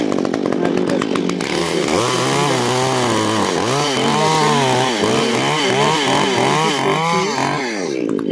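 A one-handed chainsaw cuts into a tree, loud and close, its engine whining and bogging in repeated rising and falling surges as the blade bites and pulls back over several seconds.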